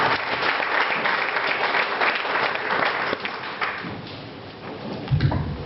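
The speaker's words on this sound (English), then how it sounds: "Give Tom one more round of applause." Audience at a pitch night gives a presenter a round of applause, steady dense clapping filling the room for several seconds, tapering slightly near the end with a low thump.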